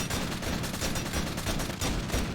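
Dense, continuous automatic gunfire in the Warzone video game, a loud unbroken stream of rapid shots crackling for the whole stretch with no voices over it.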